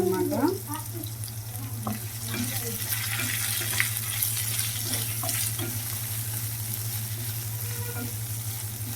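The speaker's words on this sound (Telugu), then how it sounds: "ఆనియన్స్ కూడా నేను లైట్గా అయితే వేయించుకున్నాను" Onions frying lightly in a pan for an ivy gourd and onion spice dish, a steady close sizzle with occasional stirring clicks and a constant low hum underneath.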